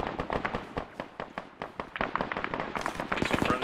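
Rapid bursts of gunfire from a military shooter game, Arma, crack in quick irregular succession throughout, dense and close, with some shots layered over one another and a busier volley near the end.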